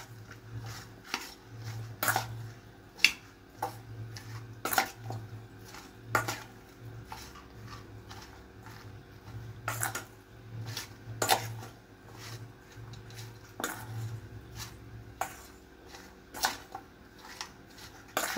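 Vegetable pulao mixture being stirred in a pan, giving repeated scraping and clinking strokes of a spoon against metal at an uneven rhythm, close and fairly quiet, with a low steady hum beneath and no talking.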